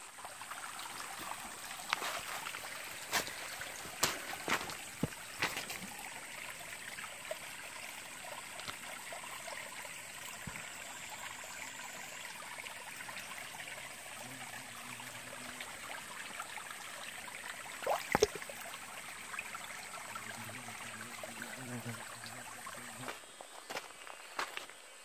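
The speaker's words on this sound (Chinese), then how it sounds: "它这里有水源，然后很好的小溪" A small mountain stream in wild hill country flows with a steady, moderately close rush and trickle of water, with occasional footsteps and brushing movements over it.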